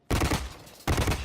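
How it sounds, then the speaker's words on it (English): An assault rifle in the Blacklight Retribution game fires two loud, close bursts separated by a short pause, each a tight cluster of rapid shots. "even though it bursts in bursts of 3, does feel to just be a weak assault rifle"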